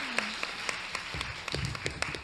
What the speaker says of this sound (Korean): 박수 치시려면 크게